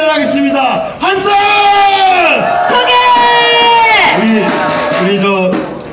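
A large crowd at an outdoor Korean political rally shouts and cheers loudly and continuously, with drawn-out massed cries that swell and fall over several seconds.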